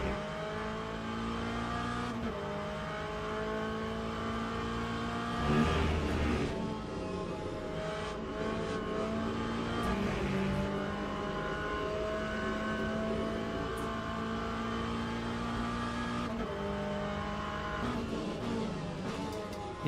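Race car engine in the Le Mans Ultimate sim racing game, rising and falling steadily through gear changes across a lap, loud and continuous with no talk.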